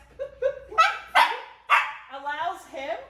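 A dog in service dog training barks several times in quick succession, close and loud, with yips and short whining tones between the barks.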